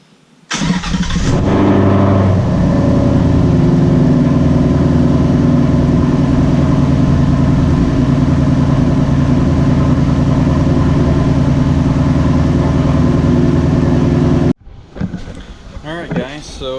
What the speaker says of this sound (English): So now we're going to crank her up, let her run for a minute, and check see what our oil level's like.